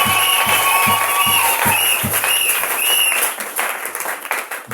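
A church congregation applauding together, loud and close, with rhythmic clapping settling into a dense burst of applause that thins out toward the end.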